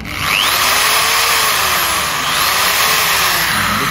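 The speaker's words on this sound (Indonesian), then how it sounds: "saat menghidupkan mesin bor tangan" A hand drill runs continuously at close range, its motor giving a loud, steady whine with slight shifts in pitch as it keeps spinning, and no talk alongside.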